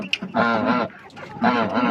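A gander honks twice, two drawn-out nasal calls close by with a short pause between them.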